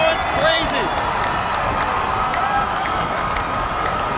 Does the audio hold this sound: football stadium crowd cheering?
yes